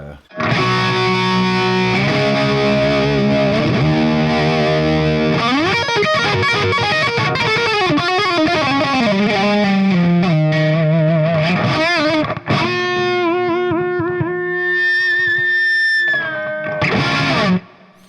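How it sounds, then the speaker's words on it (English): Loud distorted electric guitar plays chords and a run, ending on a sustained chord with a sweeping, swirling, wah-like phaser tone. "the phaser was in when he hit that chord happened to give it a wah effect"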